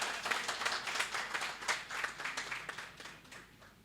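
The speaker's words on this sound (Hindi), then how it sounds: "जोरदार तालियों से इनका अभिनंदन करें" A kavi sammelan audience welcomes a poet with steady applause: many hands clapping in a dense, continuous wash with no voices over it, holding at an even moderate level throughout.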